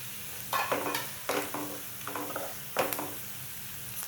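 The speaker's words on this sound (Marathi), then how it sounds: "यामध्ये मी कढीपत्त्याची पाने घालून घेते।" Curry leaves drop into hot oil in a pan for Malvani-style suran (yam) bhaji, giving several short crackling sizzle bursts with quieter frying between them, fairly soft overall.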